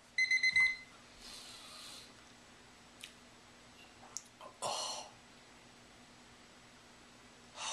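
A kitchen timer alarm rings in a quick burst of bright electronic beeps at the start, then quiet handling clicks and rustles follow, with another short noise at the end.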